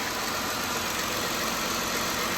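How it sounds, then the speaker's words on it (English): A 2016 Jeep Grand Cherokee engine idles after a cold start, giving a steady, even rumble close by with no voices. "Okay, so we'll let it come down off a cold idle."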